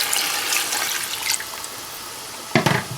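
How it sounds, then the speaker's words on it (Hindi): Water poured from a glass into a pot of browned meat and bitter gourd on a high flame for karela gosht, a steady hissing splash that ends with a short louder spill. "2 गिलास पानी इसमें ऐड कर लें।"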